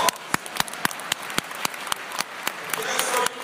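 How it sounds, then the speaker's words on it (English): An audience at a university new-student event claps in applause, with sparse, sharp individual claps at first that thicken toward a fuller round before cutting off near the end. "Give him a big round of applause."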